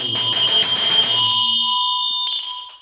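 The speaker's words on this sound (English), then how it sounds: "at the end, we play the bell, and we don't play the dhamma, just the bell" A ritual bell closing a Buddhist chant rings out loud and clear, its bright sustained tone decaying slowly before a second strike sounds near the end.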